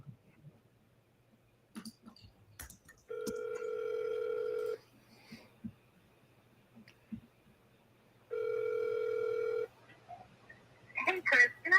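Phone call-back attempt: two steady ringback tones, each lasting about a second and a half, sound on a telephone line with gaps of quiet between them, followed by brief faint chatter at the end.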